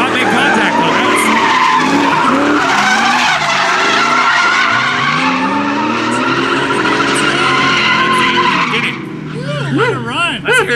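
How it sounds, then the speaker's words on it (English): Ford Mustang drift cars battle through a competition run, with sustained loud tire skidding and squealing over screaming engines throughout, the revs rising and falling as they slide, and commentators talking over the noise. "Alright, look, we got Mustang versus Mustang, Jason versus Zane."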